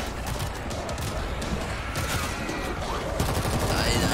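Rapid bursts of gunfire crackle continuously in the zombie shooter World War Z, with dense overlapping shots and thumps from several weapons firing at once, loud and close, under occasional faint talk.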